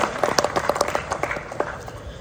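Audience applause for an embassy team at a German Unity Day reception in Tunisia: a short burst of scattered hand clapping, moderately near, with individual claps standing out.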